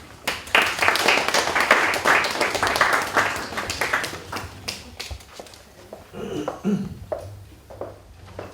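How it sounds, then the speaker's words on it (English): Warm audience applause at an African diaspora awards evening in the UK, many hands clapping loudly for several seconds before fading, followed by quieter room sounds and a voice. "Give her a big hand of applause."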